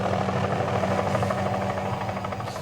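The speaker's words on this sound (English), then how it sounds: "On board that helicopter is John Reynolds, the MLA for the district" Helicopter carrying a government representative, a steady dense rotor and engine drone with a rhythmic chop, loud and continuous throughout without any voices.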